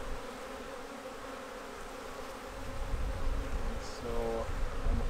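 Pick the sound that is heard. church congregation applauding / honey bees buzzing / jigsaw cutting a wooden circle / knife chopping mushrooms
honey bees buzzing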